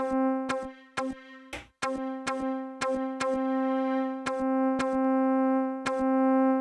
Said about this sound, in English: So you can hear that the actual guitar pluck has been sampled.